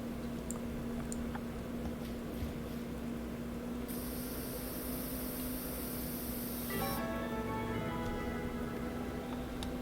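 A parasite killer spray hisses steadily for about three seconds on pets in a Sims life-simulation game, over a faint electrical hum and scattered soft clicks from the game, followed by a short run of light chiming tones.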